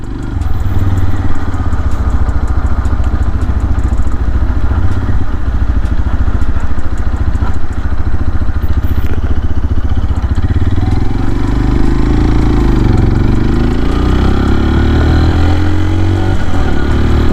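Engine of a CFMOTO Papio XO-1 small motorcycle on a short road test ride, a steady, loud low droning hum that holds throughout without any voices.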